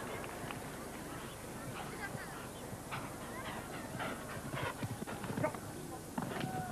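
Horse hooves thud and clip-clop during a show jumping round, faint irregular strikes under a commentator's talk and a low background hum, growing a little busier toward the end.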